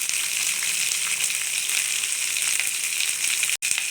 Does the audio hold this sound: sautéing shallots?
yes